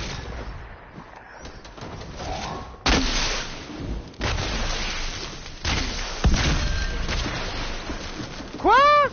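A new weapon fired into a tree trunk in a video game: several sharp, loud shots spaced a second or two apart, each with a short ringing decay, over quiet game ambience.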